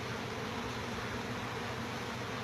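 Honey bees swarm in a house soffit during a live removal, giving a steady, dense buzzing hum that stays level throughout with no breaks or talk.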